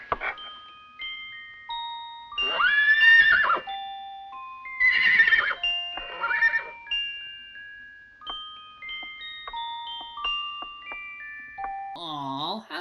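A horse whinnies several times in loud, wavering calls spread across the stretch, mixed with bright ringing tones and a final shaky neigh, all with a produced film-soundtrack quality.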